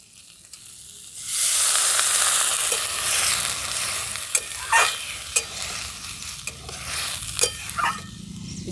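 Loud sizzling bursts up as water hits potatoes frying in a pan with two green chillies, then a steady hiss continues under scraping stirring and a few sharp clatters of the spoon.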